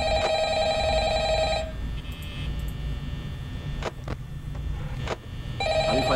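In the video game Five Nights at Freddy's, a telephone rings in two bursts of rapid electronic trilling, separated by a quieter stretch of low background hum and a few faint clicks.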